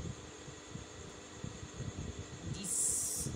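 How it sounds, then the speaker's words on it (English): A home sewing machine runs steadily, stitching fabric pieces for a beret cap with right sides together. It gives a soft motor whir with faint low rhythmic pulses, and a brighter burst of hiss near the end. "Switch on my sewing machine."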